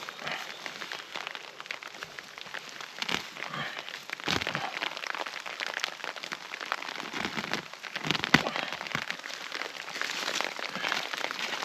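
Rain patters on the roof of a bushcraft shelter in the woods, a dense, steady hiss of drops with occasional louder splats and crackles, soft and close, with no voices.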